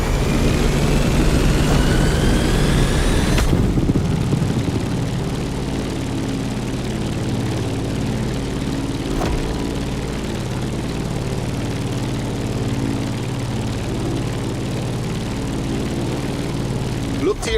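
An aircraft climbing in flight over Molokai in The Crew Motorfest, a steady low engine and propeller drone that holds loud and even after an opening whoosh, with someone speaking briefly.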